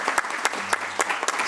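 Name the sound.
applause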